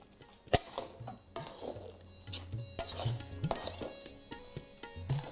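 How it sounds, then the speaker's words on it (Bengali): Motichur laddu mixture being stirred after liquid glucose is added: scraping and clattering of a spoon against a pot, with a few sharp knocks and uneven rustling strokes, close and fairly quiet. "ব্যাস তারপর এটাকে ভালো করে একবার মিশিয়ে নিন"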